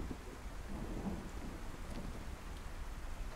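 Rain and rumbling thunder in the survival game DayZ form a steady, faint wash of rainfall under a low rolling rumble, with a brief sharp sound at the very end and no talk.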